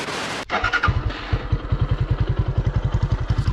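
Lifan SR220 motorcycle, after 5000 km and with a seized engine and bent valves, catches after a thump and settles into a close, steady, rhythmic chugging idle.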